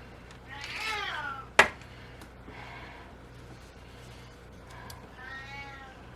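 A cat meows repeatedly in drawn-out, complaining calls, with a sharp knock partway through and quiet room noise between the cries.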